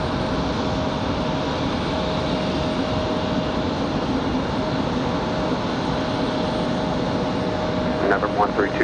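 An ATR turboprop airliner at Raleigh-Durham International Airport gives off a sustained, loud engine and propeller drone with a steady tonal hum running through it and a brief brighter flutter near the end.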